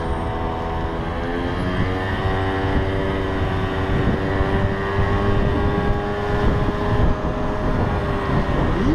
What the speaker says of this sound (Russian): Скутер тянет его без проблем.